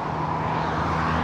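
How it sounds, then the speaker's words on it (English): A loud car passes by on a road, a steady broad roar throughout without a clear rise or fall, heard from the roadside. "A loud car."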